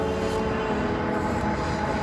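A steady rumbling roar of a Delhi Metro train passing close by at night near New Ashok Nagar, continuous and loud with a rattling, clattering texture throughout.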